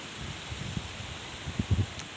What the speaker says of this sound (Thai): นี่จะเห็นต้นไม้นี่ ลู่ไปตามลมเลยนะครับเนี่ย รู้สึกว่าจะเป็นลมหมุนซะด้วย